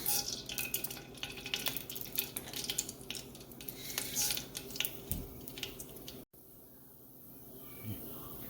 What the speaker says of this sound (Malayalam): ഇതിലേക്ക് നമുക്ക് എടുത്തു വെച്ചിരിക്കുന്ന ഉലുവയും കടുകും ഇട്ട് പൊട്ടിക്കാം